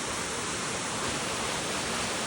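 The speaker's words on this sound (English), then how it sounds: "Here's another look at the Hedge Creek Falls as we're coming through the trail" Hedge Creek Falls, a waterfall along a wooded trail on Mt Shasta, pours as a steady broadband roar, loud and constant from start to finish with no pauses.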